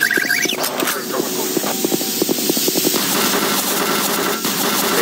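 Rapid gunfire rattles in Doom 3, a dense burst of close, loud shots over a noisy game backdrop, thinning out after a few seconds into scattered cracks.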